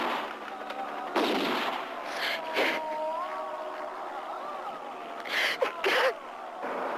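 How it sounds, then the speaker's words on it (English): Gunfire from the zombie film Dawn of the Dead comes in several loud, separate bursts of shots scattered through the span, with quieter film sound between them. "The gunfire also, I must say, is extraordinary."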